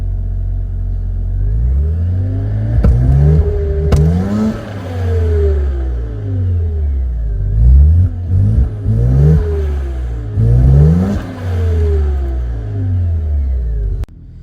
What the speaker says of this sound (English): I just have the car warming up for a little bit right now